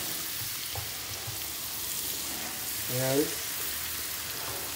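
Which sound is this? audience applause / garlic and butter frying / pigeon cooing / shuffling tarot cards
garlic and butter frying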